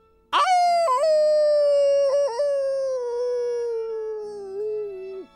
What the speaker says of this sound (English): Howled the miserable young wolf dog.